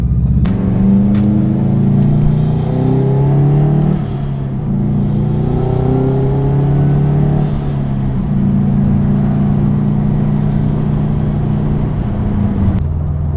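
A 2005 Subaru Impreza WRX STi engine with aftermarket exhaust idles and revs with a deep, throaty exhaust rumble, held steady with a few dips in pitch, close and loud throughout.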